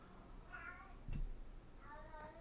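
A cat meows twice, quiet and somewhat distant, with a soft thump between the two calls.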